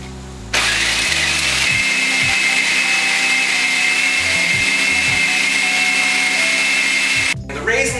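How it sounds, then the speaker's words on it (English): A food processor fitted with an S blade whirs steadily as it blends raisins and sun-dried tomato into a dough-like ball, a loud continuous motor drone that starts abruptly and cuts off near the end. "using the S blade, we're just gonna let that run until it turns into like a dough-like ball."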